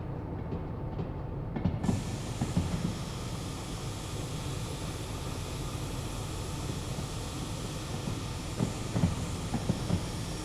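Train rolling on rails in the Derail Valley simulator, a steady low rumble with rhythmic clacks and a brief hiss at the start, continuous and fairly close, no talking.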